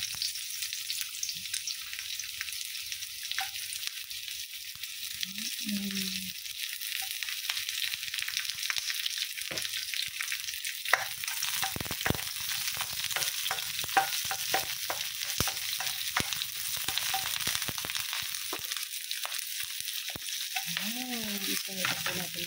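Onions sizzle steadily as they fry in a pan for chicken feet, with occasional scraping stirs and a constant hiss throughout, no talk.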